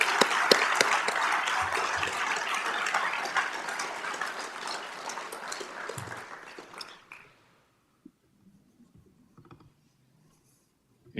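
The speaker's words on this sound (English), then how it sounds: "Let's give him another round of applause, please." An audience at a Fargo Police Department swearing-in ceremony gives a sustained round of applause for about seven seconds, then it stops abruptly and leaves near silence with a few faint clicks.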